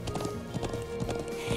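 Horse hooves clop at a gallop in the video game Trails of Cold Steel, a quick rhythmic run of close, loud hoofbeats over grass with music underneath.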